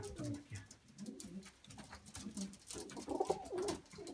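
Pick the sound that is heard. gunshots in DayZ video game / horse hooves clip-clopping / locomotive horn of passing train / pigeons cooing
pigeons cooing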